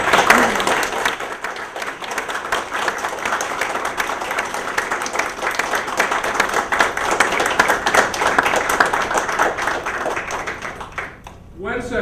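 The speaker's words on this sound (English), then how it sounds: "I'd ask all of us to give her a round of applause." Audience at a museum dedication for an art exhibit gives a sustained round of applause, dense even clapping lasting about eleven seconds before fading out.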